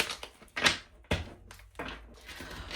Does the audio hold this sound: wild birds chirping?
no